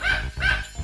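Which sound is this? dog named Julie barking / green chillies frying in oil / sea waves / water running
dog named Julie barking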